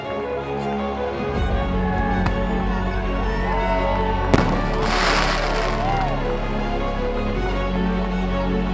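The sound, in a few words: fireworks exploding at the launch from Bimini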